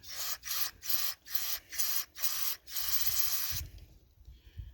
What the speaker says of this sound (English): And then just give it a good spray.